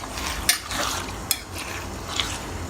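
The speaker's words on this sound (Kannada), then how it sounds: "ಲಿವರ್ ಹಾಕಿದ್ಮೇಲೆ ಬಟ್ ಬಟ್ ಬಟ್ ಬಟ್ ಅಂದ್ಬಿಡುತ್ತಿದ್ದು ಸ್ವಲ್ಪ ದೂರ ಇರಬೇಕು" Chicken liver frying in hot oil in a pan, crackling and hissing steadily with a few sharper spattering pops standing out, heard close with no voices.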